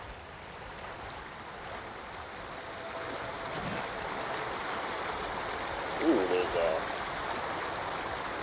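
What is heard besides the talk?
flowing water by a waterfall in video game Ghost of Tsushima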